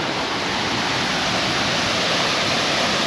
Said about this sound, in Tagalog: ito nandito na tayo sa isang falls Kaso lang lakas ng alon guys